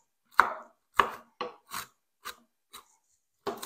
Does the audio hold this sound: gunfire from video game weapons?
no